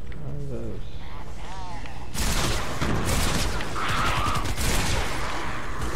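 Fortnite barrel turret firing through a ramp: dense bursts of shots and booms crowd the last four seconds after a quieter opening with voices and game tones, loud and continuous under the mix.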